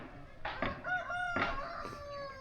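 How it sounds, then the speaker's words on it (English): Roosters crow in a village in the Pokhara Valley, Nepal, with two drawn-out calls sounding faint and somewhat distant over quiet background. "And there's still cockerels here."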